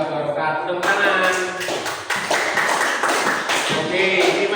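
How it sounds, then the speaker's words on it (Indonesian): Students in a classroom break into brief, dense applause that fills the room, with voices mixed in. "Tepuk tangan."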